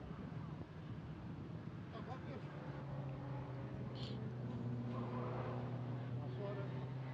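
A Datsun 1200 race car at the Estoril circuit, heard as a steady engine drone running under continuous trackside noise and a commentator's voice, with no sharp pass-by peak.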